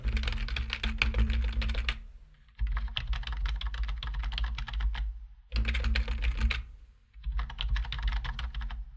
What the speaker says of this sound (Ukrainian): В плані звуку вона не тиха, але все пізнається в порівнянні.